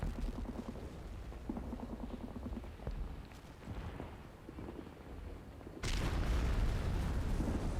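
Mortar fire and a shell explosion in the Men of War strategy game: a muffled low rumble of battle noise, then a loud broadband blast at the end that holds steady.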